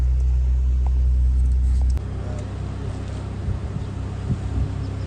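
A Volkswagen VR6 car drives along in Mpumalanga, a low engine and road rumble with wind buffeting the microphone, louder at first then settling into a steadier, quieter drone.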